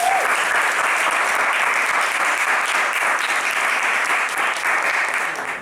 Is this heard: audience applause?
yes